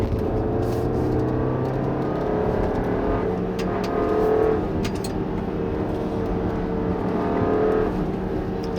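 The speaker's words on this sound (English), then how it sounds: "that engine does not sound good to me" A 2016 Audi Q3's engine pulls under steady acceleration along a curvy back road, a continuous droning hum with a slight swell midway, heard from inside the cabin with no talking.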